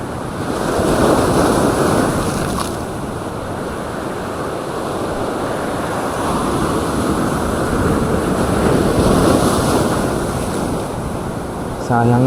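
Big ocean waves break along the shore in a continuous, loud roar of surf. Gusts of wind buffet the microphone throughout.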